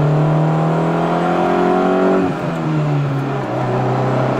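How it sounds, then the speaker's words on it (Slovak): A Honda CRX del Sol's engine and exhaust drone steadily while driving, a loud close hum that shifts pitch midway as revs drop and then settle again. "Sa mi páči, že zvuk je aj od výfuku a od motora."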